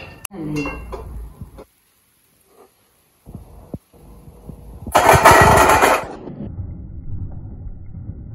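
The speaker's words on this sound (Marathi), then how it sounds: "काजू पण थोडं गरम व्यवस्थित भाजून घ्यायचे" Cashews roasting in a pan while making dry date and coconut laddoos, with scraping and clattering against the metal, a loud burst of rattling, and a few quiet gaps between the stirs.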